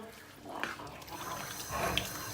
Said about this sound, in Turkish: İçine 4 su bardağı soğuk su veriyoruz